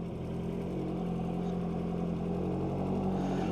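A BAC Mono engine idles in neutral with a steady, low, even drone, close and continuous with no talk.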